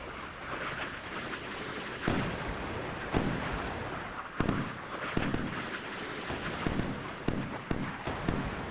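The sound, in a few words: Sea Whiz close-in weapon system firing in Sea Power video game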